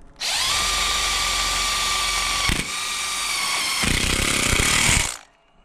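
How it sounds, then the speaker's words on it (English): A power drill drives stainless self-tapping screws into an IronRidge solar mounting rail splice, with a loud, sustained high whine lasting about five seconds that dips briefly midway and then ends, with no speech. "it's going to come with two stainless self-tapped screws"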